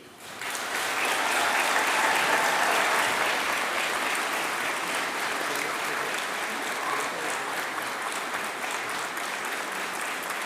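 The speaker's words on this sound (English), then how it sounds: "join me in thanking everyone who has supported you on your journey with a really warm and, I hope, loud round of applause" Sustained, loud applause from a large audience at a university graduation ceremony for business and management schools. It swells quickly at the start and stays dense and steady to the end, without speech.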